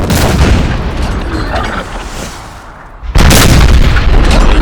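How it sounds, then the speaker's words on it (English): Booming cannon volleys from Young Guard artillery roll through a Napoleonic battle in Napoleon: Total War. Dense, loud rumbling blasts build and fade, then a sharp, heavy burst of fire hits near the end. "We have a young guard artillery here, already firing, trying to do its bit."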